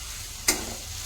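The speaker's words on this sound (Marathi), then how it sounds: "कोथिंबीर घातली, एकदा हलवते मी आणि अशीच ठेवते झाकून" Dried tendli fish curry with fresh coriander simmers in a pan with a faint, steady hiss, and a single brief scrape of a spoon cuts through the middle, with no one speaking.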